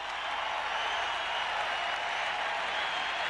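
An arena crowd at the Forum before Game 6 of the 1987 NBA Finals between the Celtics and Lakers applauds and cheers steadily, a dense, continuous wash of clapping and crowd noise with faint voices underneath.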